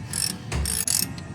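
Quick ratcheting clicks from a hand ratchet tightening the bolts of a new Subaru wheel bearing assembly, three short bursts of metallic pawl clatter close up in a garage.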